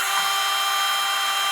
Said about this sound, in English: now we can use our drill bit and drill into our crank and our really expensive harmonic balancer